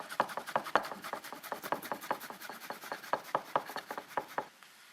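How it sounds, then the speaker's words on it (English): Peeled ginger root is rubbed against a grater in quick, rhythmic scraping strokes, about twenty close, crisp rasps in a row before stopping, with no talk. "And then we're going to take our peeled ginger root and grate in some ginger."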